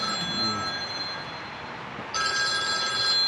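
A telephone rings with an incoming spam call in a barn workshop, its electronic ringing tones steady and moderately loud through the whole stretch, swelling brighter near the end.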